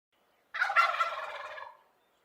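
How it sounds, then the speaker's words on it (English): A single turkey gobble, a rapid, warbling burst of about a second and a half, clear and close against silence. "Turkey."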